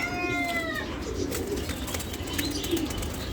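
A male Giribaz racing pigeon coos in low, throaty, repeated murmurs close by, over steady background noise with some higher chirps from other birds.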